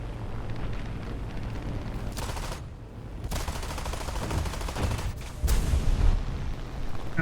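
Tank guns in War Thunder fire in sustained heavy bursts at a light pillbox, a dense roar of gunfire with brief gaps and louder blasts near the end.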